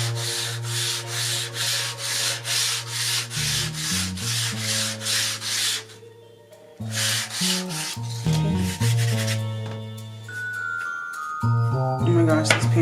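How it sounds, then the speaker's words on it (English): An oil painting's surface gets the lightest sanding, a series of rhythmic, fairly loud rubbing strokes, then a pause and a few more irregular passes, with musical tones running underneath. "I'm just gonna give it like the lightest sand"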